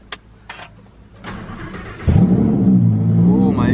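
A Lamborghini sports car starts up close by after a few short clicks, its engine catching and then revving loudly with a rising, strained growl and a high whine at the end, while someone speaks briefly over it.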